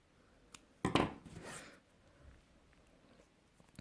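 Crochet yarn being snipped, probably with scissors, while making a crocheted scrubber: one brief, close, crisp cut in an otherwise quiet room.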